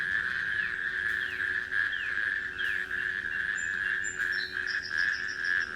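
Natterjack toad calling in a steady, loud churring trill that runs throughout, with scattered bird chirps overhead and no voices.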